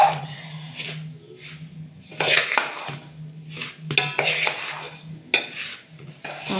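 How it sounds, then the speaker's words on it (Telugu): Semolina, powdered sugar and cashews being stirred with ghee in a bowl for ravva laddu, heard as scattered scraping and clinking of a spoon against the dish, close and irregular, with a dog whimpering faintly in places. "అంతా రవ్వ, చక్కెర పొడి, జీడిపప్పు, పచ్చకర్పూరం అంతా బాగా కలుపుకుని నెయ్యి వేసి బాగా కలుపుకోవాలి"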